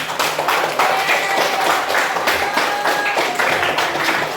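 Classroom group clapping together at a school session, a dense burst of hand claps filling the room for several seconds at steady loudness, no voices over it.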